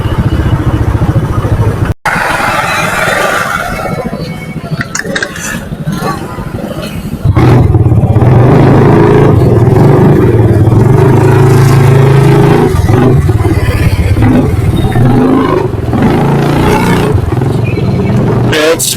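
A group of eight motorcycles riding together on a trip to a beach and falls in Real, Quezon, engines droning steadily and loudly close by, with a brief dropout early and a louder stretch after it, under faint voices.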